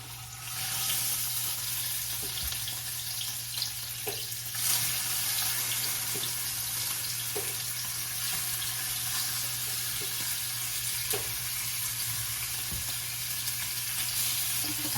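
Salmon fries flesh side down in a pan, a continuous close sizzle with scattered small pops and a low steady hum beneath, no talking.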